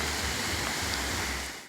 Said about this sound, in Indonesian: Sungai, ya, ada sungai. Kebetulan sekarang musim hujan, jadi agak besar airnya, tapi jernih.